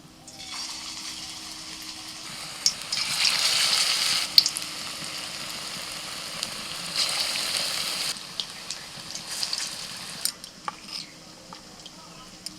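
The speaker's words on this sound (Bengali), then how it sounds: "তো আমি এবার ভেজে নেব।" Prawn-stuffed spinach fritters frying in hot oil in a wok, a continuous crackling sizzle that surges in bursts as pieces go in or are turned, with occasional clinks of a utensil.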